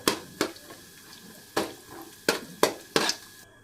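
Chopped coconut pieces fry in hot oil for puffed-rice chivda, with a string of sharp crackling sizzle bursts, about seven distinct spits close up, and no talk.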